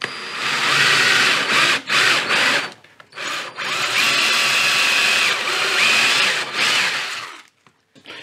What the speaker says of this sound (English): I'm going to drill the bigger hole now. This hole saw is pretty worn.